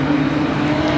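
Production sedan race cars roar at Kingaroy Speedway, a dense continuous engine drone with a strong steady tone, loud and close with no pauses.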